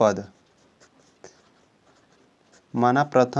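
Pen writing on paper or board during a class 10 maths lesson, faint scratchy strokes and a light tap between stretches of a man's speech.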